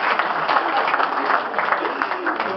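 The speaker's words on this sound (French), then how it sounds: "On applaudit Jean-Pierre." Steady audience applause at a press conference in Monte Carlo for the Zapashny brothers' circus act. Thick, even clapping keeps up at a moderate level from start to finish, with some crowd murmur mixed in.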